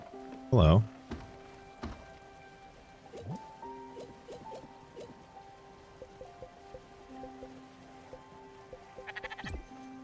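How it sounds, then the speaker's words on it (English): A single loud sheep bleat in the video game Spiritfarer, close and brief near the start, then soft game ambience with scattered clicks and a short rattle near the end. "I know it's a sheep."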